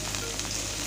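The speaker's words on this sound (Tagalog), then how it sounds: "After mag-isa, ilagay natin yung sitaw." String beans fry in a pan with garlic and onion, giving a brief, steady, close sizzle with a faint stir.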